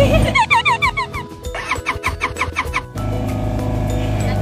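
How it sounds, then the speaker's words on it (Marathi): Engine of a tempo vehicle carrying passengers on a road near Nanemachi waterfall, a loud, close drone with rhythmic revving pulses and tonal whines, settling into a steady rumble. "आम्ही टेम्पोने 3 किलोमीटर्स आम्ही आता पुढे चाललो"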